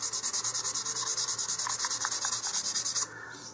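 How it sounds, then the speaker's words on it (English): Quick rhythmic back-and-forth sanding on a polystyrene plastic part for an Estes Alpha model rocket: about twenty close, scratchy strokes in an even tempo that stop abruptly near the end. "now if you don't want to do all this sanding and you're going to paint it anyway"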